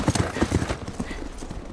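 A horse in The Last of Us Part 1 video game clops its hooves in a quick, steady rhythm at close range, with a soft snort or whinny mixed into the brief passage.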